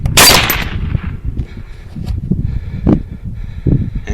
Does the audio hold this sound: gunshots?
yes